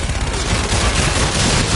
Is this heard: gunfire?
yes